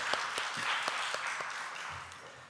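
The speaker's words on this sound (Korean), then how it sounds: "하나님께 영광의 박수 올려드리겠습니다." A church congregation gives sustained applause during a Sunday worship service, a dense even patter of many hands that tapers off toward the end.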